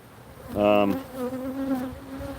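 Honeybees buzz loudly and close during a hive inspection among comb with stored bee bread, a dense swarming hum that swells and holds steady through the clip.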